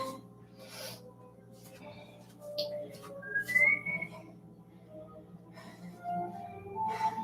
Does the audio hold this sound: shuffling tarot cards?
no